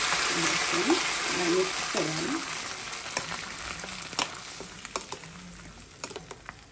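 Okra pulihora sizzles and fries steadily in a pan as it is stirred, with scattered spoon clicks and scrapes over the constant hiss, while a voice talks faintly underneath.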